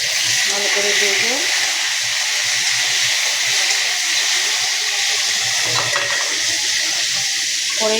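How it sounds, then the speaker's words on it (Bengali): Potatoes frying with a little salt in a pan make a steady, hissing sizzle, with brief bits of a voice in the background now and then. "আগে আলুগুলো ভেজে নেব হালকা লবণ দিয়ে"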